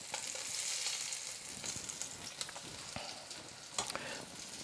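Salmon fillets pan-searing over medium heat give off a steady, faint sizzle with soft crackles and occasional pops, heard alone without talk.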